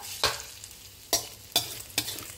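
Shrimp stir-frying in a pan, a soft sizzle underneath four sharp scraping stir strokes spaced unevenly, each a brief bright swipe against the pan, fairly quiet and close with no voice.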